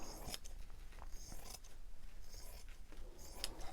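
Scissors snip through paper for a handmade junk journal cover, a quiet, close series of quick irregular cuts and rustles with no talking.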